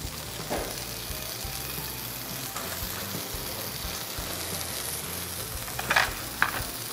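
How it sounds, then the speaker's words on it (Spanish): Mojarra fish searing in a hot pan with marinade spread over it, a steady close sizzle holding throughout with a couple of brief utensil taps near the end. "nuestra mojarra la dejamos que dore por ambos lados y le agregamos la marinada por ambos lados"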